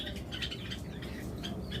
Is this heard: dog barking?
no